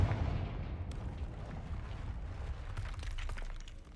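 In a wizard video game, the Confringo spell goes off as a fiery blast. A loud, crackling burst opens the sound and decays into rumbling, shattering debris noise that lasts for a few seconds.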